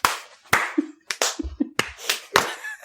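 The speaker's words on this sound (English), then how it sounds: "Should we clap or something so you know when to realign our audio? Yeah, everybody clap." Several people clap their hands to mark a sync point for recording, producing about seven sharp, loud claps in an irregular sequence, close to the microphone, with short gaps between them and a few faint voice murmurs mixed in.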